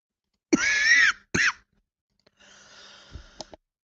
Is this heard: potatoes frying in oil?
no